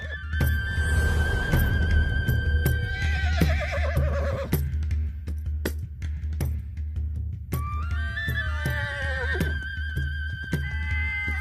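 A man imitates a horse, letting out repeated whinnying neighs in his sleep, loud and close over a low background hum, with thumps and short pauses between the calls.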